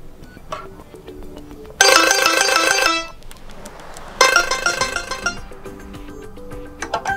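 Ringtone melody from an ASUS ROG Phone 3 plays in two loud bright bursts, each about a second long, with quieter tones and soft clicks between them.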